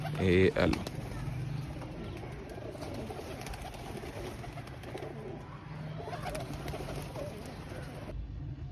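A pigeon at a Pakistani pigeon dealer's coos softly in low, murmuring repeats beneath continuous background noise, with a brief loud flutter and clatter near the start.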